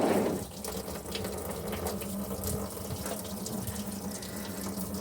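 Coolant pours from a 1950 Chevrolet Suburban carryall during a water pump replacement, splashing into a drain pan below in a steady, close, moderately loud liquid stream that keeps flowing without a break.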